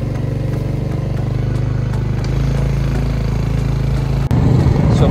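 Motorbike engine idling and running on a street in Halong Bay, Vietnam, with a steady, close, loud rumbling chug that continues throughout and rises briefly near the end.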